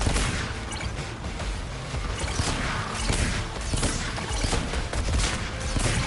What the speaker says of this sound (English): Firing on your target.